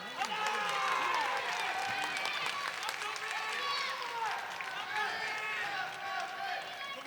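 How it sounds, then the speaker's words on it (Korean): Crowd applause and cheering for two kickboxers at a K-Combat Asia championship bout in Ulsan, a broad clapping roar with voices and a commentator talking over it throughout. "여러분 두 선수에게 힘찬 박수가 필요합니다"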